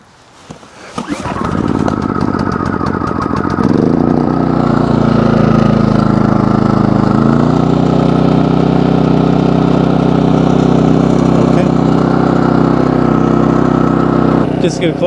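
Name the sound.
PROYAMA 4000 watt portable generator engine running after pull start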